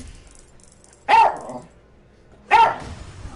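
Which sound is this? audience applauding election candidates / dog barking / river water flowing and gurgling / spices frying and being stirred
dog barking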